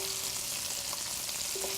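Lamb meatballs frying in a pan give off a steady, close, bright sizzle that holds even and dense throughout, with a faint tonal hum underneath.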